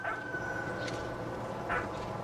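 A dog in the video game What Remains of Edith Finch gives a few short yips and barks, faint and set back in a quiet, steady background.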